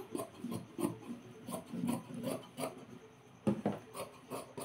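Blouse fabric being cut with scissors: a quiet, steady run of raspy snips and rubbing cloth, close and repetitive.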